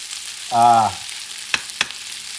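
A spoon works through Puerto Rican rice with pork ribs in a pot, giving a short squeaky scrape followed by two sharp clinks against the pot, close and otherwise quiet.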